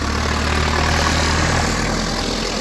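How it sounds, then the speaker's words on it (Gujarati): A tractor engine rumbles steadily at a closed railway crossing while traffic waits for a train, a loud, continuous low diesel drone with no voices. "અને અહીંયા આવા ટ્રેક્ટર બહુ નીકળે."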